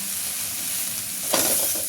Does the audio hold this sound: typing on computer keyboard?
no